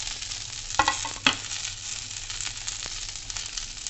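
Onion and potato being stirred into bhindi (okra) as they fry in a pan, giving a steady low sizzle with a couple of sharper scraping stir strokes early on, no talking.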